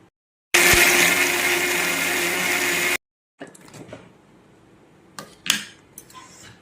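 A mixer grinder whirs loudly for a couple of seconds grinding raw mango chutney with a little water, then stops, followed by quieter clatter and a few sharp knocks.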